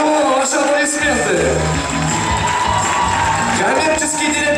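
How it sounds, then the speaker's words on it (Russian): An audience at a student spring festival in Belovo cheers and shouts loudly in a sustained, crowded roar, with whoops and voices mixed through the noise. "Ваши аплодисменты."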